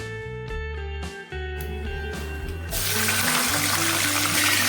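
Mustard seeds and fenugreek splutter in hot sesame oil, starting as a tonal hum and scattered pops, then rising after a few seconds into a loud, continuous hiss and crackle that keeps building, with no talking.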